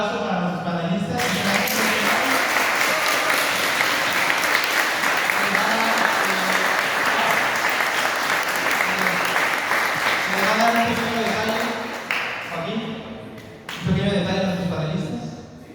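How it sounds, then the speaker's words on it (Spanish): Sustained audience applause for panelists at the Media Human Fest 2025 event, a dense wash of clapping that runs for about twelve seconds, thins out, then swells briefly again near the end, with voices talking underneath. "Un aplauso para nuestros panelistas."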